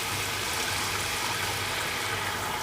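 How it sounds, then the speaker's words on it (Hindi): Water pouring steadily into a cooking pot, six glasses' worth going in for chicken pulao with browned onion and green chillies; a continuous, fairly loud splashing trickle with no talk over it. "अब इसके अंदर 6 गिलास हम पानी के डालेंगे।"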